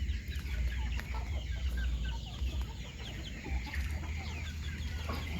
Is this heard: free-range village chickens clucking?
yes